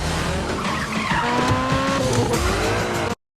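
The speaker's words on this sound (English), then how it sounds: "That was Mitsubishi Eclipse sounds." Mitsubishi Eclipse car engine and squealing tires, a sustained skidding screech with engine drone that runs loud for about three seconds, then cuts off.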